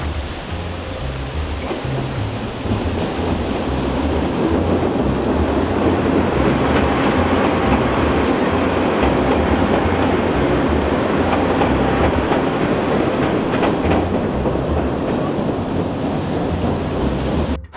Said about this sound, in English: wait for the next train going into the other direction.